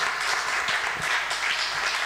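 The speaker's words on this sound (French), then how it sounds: "On peut les applaudir" Supporters gathered for a tribute event applaud two guests, an even, moderately distant roll of clapping from a crowd that continues steadily with no speech on top.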